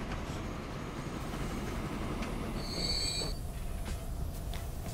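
A train pulling out of a station in Transport Fever, steady rolling rumble with a brief high wheel squeal partway through, continuous and fairly loud.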